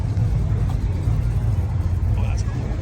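Cars rumble through congested street traffic at the Hot August Nights car show in Reno, Nevada, a dense low drone of engines with a voice talking over it.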